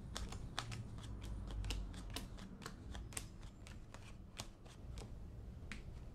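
Playing cards being shuffled and dealt up close: a quiet run of crisp, evenly spaced snaps and flicks, like riffled card edges, over soft handling noise, with no talk.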